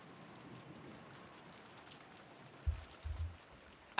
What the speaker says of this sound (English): disappeared beneath the sound of the rain